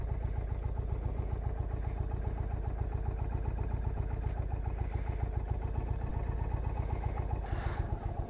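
Motorcycles idle together as riders mount up for the first ride of the season, a steady pulsing engine chug held close and constant, with faint clanks drifting over it and no talking.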